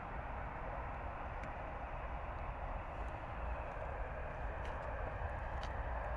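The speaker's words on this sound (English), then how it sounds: "Ryanair coming in." Ryanair airliner arriving overhead at Bristol Airport, a broad steady jet roar that stays loud and even throughout, with faint ticks over the rumble.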